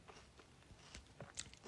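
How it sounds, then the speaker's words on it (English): Quiet, close-up chewing of a piece of plum, with soft irregular bites and wet mouth sounds repeating over a couple of seconds, faint and intimate with no talking. "the sound of the chewing."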